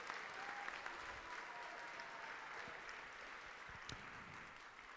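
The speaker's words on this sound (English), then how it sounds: "Round of applause here." Audience applause at the Master Series miniature painting competition awards at ReaperCon 2024, a steady wash of distant clapping from a hall crowd that holds evenly throughout.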